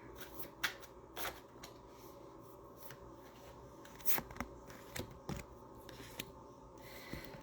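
Tarot cards shuffled by hand for a reading, quiet close riffles and soft slaps coming in irregular bursts over a faint background, with no talking.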